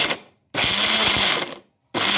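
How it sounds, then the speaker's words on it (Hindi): Electric kitchen blender pureeing fresh tomatoes, motor starting with a brief whir, then a steady loud roaring run of about a second before stopping, and starting up again at the end. "तो बस हम इसको ब्लेंड करना शुरू करते हैं। ये इनको हम ब्लेंड करना शुरू करते हैं।"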